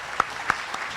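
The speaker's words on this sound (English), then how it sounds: "let's give Graham a last round of applause" A brief burst of audience applause closes a presentation at a Georgia DOT pavement-preservation meeting, with a few distinct claps over a soft wash of clapping in a hall.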